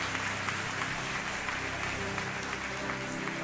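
Congregation at a church service applauding, a steady dense wash of clapping at moderate level with faint voices mixed underneath.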